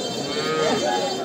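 Cattle at a rural livestock market in Shayestabad, Barishal, where bull calves are sold, giving a steady low moo that rises and falls beneath a busy crowd murmur. Distant voices chatter throughout.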